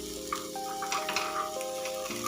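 Appe sizzling in an appe pan as each round piece is flipped, giving a steady close crackle with several light metallic clicks and taps from the turning.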